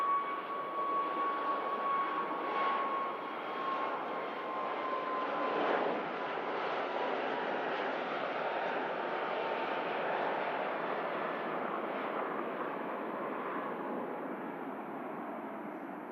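A Ryanair airliner climbs out after takeoff from snowy Manchester Airport, its jet engines roaring in a steady, sustained wash that slowly fades as it pulls away.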